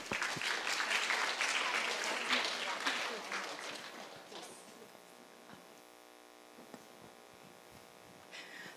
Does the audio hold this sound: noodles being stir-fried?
no